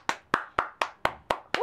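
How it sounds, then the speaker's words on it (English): One person claps seven times at a steady beat, sharp and close, for a girl modelling an outfit. "Let's give her a round of applause."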